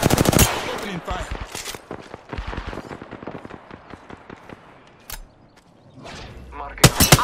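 Gunfire in the shooter game Apex Legends, rapid automatic bursts cracking close and loud, with short pauses between volleys and a final loud burst at the end, a voice talking briefly among the shots.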